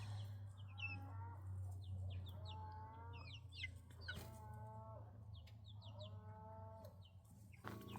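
Young chickens in a chicken tractor clucking and peeping in repeated bursts over a low steady hum, with a few sharp knocks and scrapes in between.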